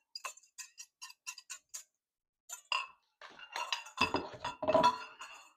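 Eggs go into a pan and get mixed for breakfast, starting with a string of light, evenly spaced clinks and taps, then a louder burst of scraping and clatter near the end.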